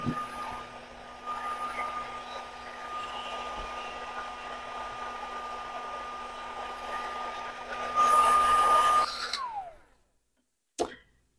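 A hair dryer blows steadily over paper freshly sprayed with Distress Oxide ink, a loud continuous whoosh with a steady hum that rises briefly before cutting off, followed by near silence and a short knock.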